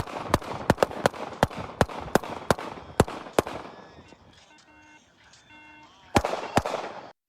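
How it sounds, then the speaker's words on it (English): A rapid series of sharp, loud gunshots cracks out, pauses briefly, then another burst of shots follows. "That was followed by an exchange of gunfire."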